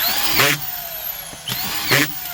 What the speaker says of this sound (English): You can take the extension off, and then you just have the auto feeding screwdriver